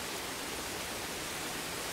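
Flowing water in Star Wars Jedi Fallen Order, a continuous even rush like a nearby stream or falls, soft but steady with no pauses or voices.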